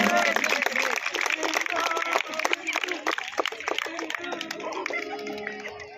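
Audience applause rises to welcome cabinet minister Brijmohan Agrawal onto the stage at a Chhattisgarh university event, a dense, steady clatter of clapping that holds for several seconds and slowly thins toward the end, with a voice over the crowd.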